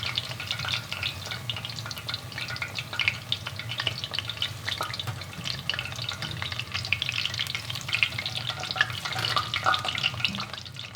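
Continuous crackling sizzle of cauliflower frying in oil at about 350 degrees Fahrenheit, dense popping bubbles at an even level throughout, close up and with no talking.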